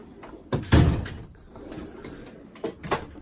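A drawer on a Snap-on KRL722 tool box, the one holding hammers and a pry bar, rolls open with a sharp metallic clunk followed by a softer rattle of its contents, then a couple of lighter knocks near the end, close and fairly loud.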